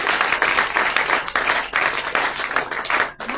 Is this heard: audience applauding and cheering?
yes